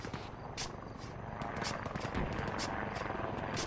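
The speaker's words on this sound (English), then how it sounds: "we got another helicopter coming in from the north to south." A helicopter's steady rotor rumble fills a noisy Arma military-simulation soundscape, with sharp bursts like gunfire cutting through at intervals.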